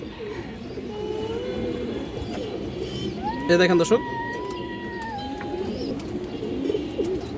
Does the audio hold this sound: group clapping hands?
no